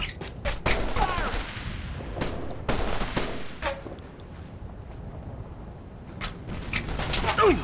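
Gunfire in the Operation Flashpoint video game, with repeated sharp rifle shots and bursts scattered through a busy battle soundscape, some close and loud, others fainter.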